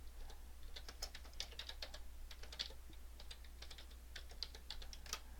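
Fingers type on a computer keyboard in quick irregular bursts of light clicks, close and fairly quiet over a low steady hum, with no talking.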